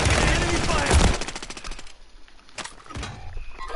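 Rapid automatic gunfire from a battle royale video game crackles loud and dense for about two seconds, then drops to scattered distant shots and game noise.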